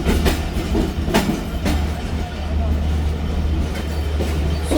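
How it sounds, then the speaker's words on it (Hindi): The Khyber Mail from Rawalpindi to Karachi runs on with a deep, continuous rumble and rhythmic clickety-clack of wheels over rail joints, heard from inside close up, with some voices in the carriage. "प्लेटफॉर्म नंबर 2 से रवाना हो रही है खैबर मेल"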